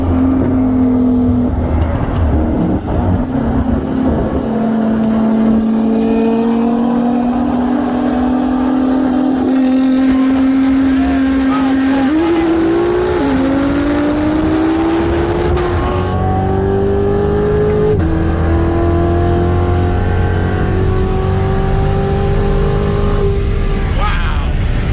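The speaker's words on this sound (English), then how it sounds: "this time the GTR is going to be using rolling anti-lag" A 2014 Nissan GT-R with hybrid turbos on E85 holds a loud droning rev on rolling anti-lag, then accelerates hard with rising engine pitch through gear shifts, close and continuous, with some talk over it.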